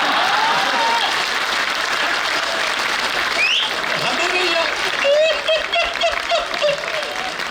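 An audience at a poetry recital at Tis Hazari Court applauds loudly, a dense burst of clapping from the crowd that fades into a man's speech.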